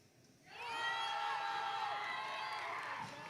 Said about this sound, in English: You can hear the crowd behind me.